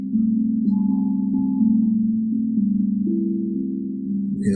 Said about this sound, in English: You can allow the tones to take you deeper.